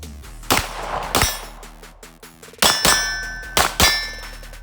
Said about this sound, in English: And now we're gonna do 6 shots with this, doing the same thing.